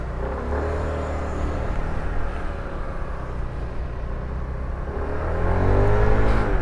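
A 2025 Kymco Like S 150 scooter with a four-valve engine pulls away on a test ride, its motor whirring steadily and rising in pitch and loudness toward the end, heard from the rider's position.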